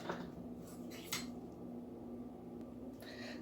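Body lotion mixture being stirred in a bowl, faint scraping and light clinks of a utensil against the bowl in a few short bursts, quiet, with a low background hum.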